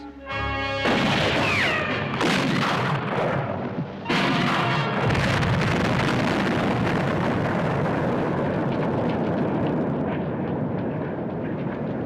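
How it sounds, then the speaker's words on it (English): A huge explosion as men try to blow up a stamp mill in an old Western, a loud crashing blast followed by a second roaring burst and a long rumbling debris tail that slowly fades. "Those men tried to blow up my mill."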